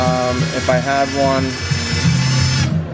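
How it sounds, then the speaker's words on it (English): An electric drill bores a small hole in a carbon fiber fairing on a BMW S1000RR, its close, loud whine rising and dipping under a man's speech before cutting off. "you're gonna drill a little hole here in the carbon"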